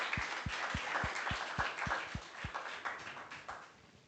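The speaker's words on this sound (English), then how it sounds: "A round of applause." Audience clapping at a community talks event: a rhythmic, evenly spaced series of claps with a thudding low beat under a broad wash, fading slightly toward the end.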